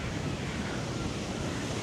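Sea waves washing onto a beach shore in Sri Lanka, a continuous loud roar of surf mixed with wind buffeting the microphone.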